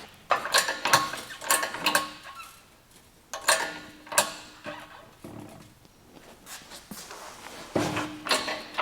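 A new bearing being pressed into a Nissan Patrol rear axle with a homemade socket gives repeated close metallic clanks and ratcheting clicks, arriving in uneven bursts with short pauses between them.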